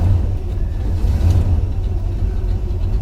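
A truck idles to warm up, its engine a close, continuous low rumble with slight swells in level and no voices.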